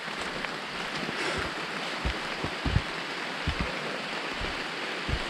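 Steady rain falling on a hiking trail along the Long Trail, a dense continuous hiss with scattered low thumps of drops or footsteps, no voices.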